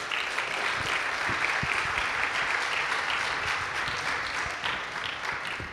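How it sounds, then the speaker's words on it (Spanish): An audience applauds the author at a book presentation of a short-story collection: sustained, dense clapping from a roomful of people, steady and fairly loud for the whole stretch, fading slightly at the end. "Un aplauso para ti, lo primero."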